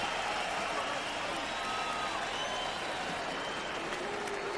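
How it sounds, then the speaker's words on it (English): Dense, sustained crowd applause and cheering fills a boxing arena for a heavyweight fighter, steady and loud throughout with no break. "Sam getting some love from the crowd for his brave performance."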